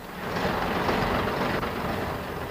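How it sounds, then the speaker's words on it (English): A diesel multiple unit train's engine pulls away in first gear, a loud, steady rumbling drone with rail noise. "Engine power is now being transmitted through the gearbox to the cardan shaft, and so to the final drive in the road wheels."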